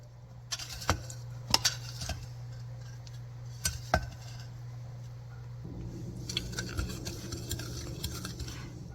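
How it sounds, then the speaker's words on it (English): A whisk stirs dry ingredients for pumpkin bread together in a bowl, making close, steady scraping with sharp metallic clinks and taps scattered throughout. No one speaks. "now I'm just going to whisk all of these together"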